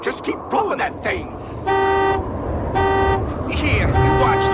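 A car horn blasts three times in long steady honks, near and loud, during a storm, with shouting voices between and under the blasts.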